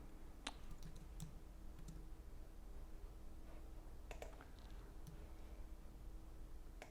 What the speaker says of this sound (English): I'm using S on my keyboard in case you've forgotten.